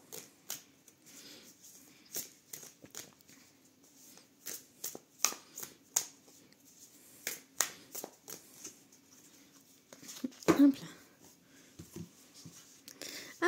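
Tarot cards shuffled and drawn by hand, a run of soft, close riffling slaps and flicks at uneven intervals, quiet and alone, with a brief louder shuffle near the end.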